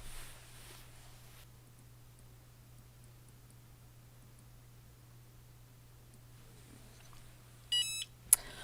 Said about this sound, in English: Now when this timer rings